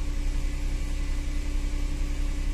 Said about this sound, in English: You can hear the air pump running now.